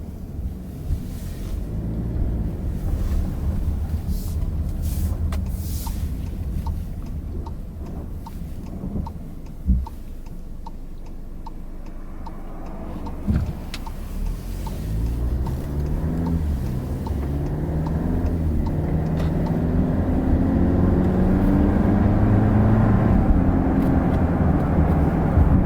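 A 2020 Volkswagen Atlas Cross Sport SUV on a test drive gives a steady low engine and road rumble from inside the cabin, building gradually louder toward the end, with a few soft thumps along the way.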